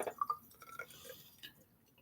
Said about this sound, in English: Give that a nice little pour.